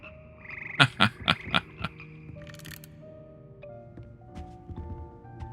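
Frog choir croaking in the game Hogwarts Legacy, a run of five sharp, loud croaks in quick succession followed by softer sustained musical tones and scattered quieter croaks.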